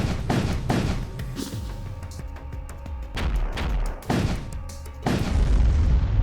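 Big guns fire in the video game Void War in a string of deep, punchy booms and thuds at irregular intervals, loud and close over faint sustained tones.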